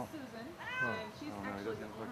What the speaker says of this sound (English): it's a call that a cat is stuck in a tree.